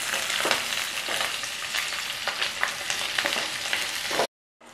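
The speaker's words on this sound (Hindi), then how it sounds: "इन शिमला मिर्च के पीसेस को हम नरम होने तक फ्राई कर लेंगे तेल में" Capsicum pieces frying in hot oil in a kadai while cooking kadai paneer, giving a steady dense sizzle with occasional crackles that runs without talk before cutting off abruptly near the end.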